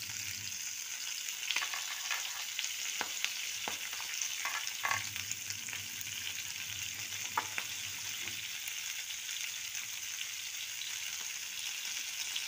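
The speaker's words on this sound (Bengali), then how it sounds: "একটু ভাজা ভাজা হোক।" Chopped spinach fries with cumin in a pan, giving a soft, steady sizzle broken by scattered clicks and scrapes of stirring. It is close but quiet, with no talking.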